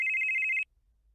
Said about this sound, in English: And your phone rings.